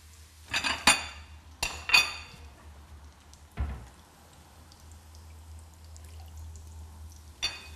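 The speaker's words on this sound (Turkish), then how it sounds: "Yine şerbetimizi de karıştıralım sevgili izleyiciler." A spoon scrapes and clinks against a pot while sugar syrup with a lemon slice is stirred, giving several sharp metallic knocks in the first few seconds, then a quieter stretch and one last clink.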